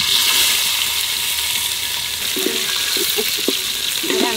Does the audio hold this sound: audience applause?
no